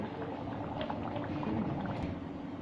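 Mutton karahi gravy simmers steadily in a pot, giving a continuous low bubbling burble at moderate level. Nobody speaks.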